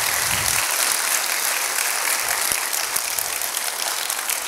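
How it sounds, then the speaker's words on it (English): A church congregation claps together during a Sunday morning service, a dense, steady wash of applause filling the room throughout with no voices over it. "put your hands together and give him a clap offering this morning"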